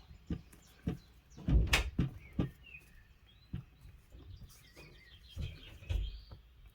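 Soft bird chirps and tweets sound faintly in the background, mixed with scattered dull knocks and thumps nearby.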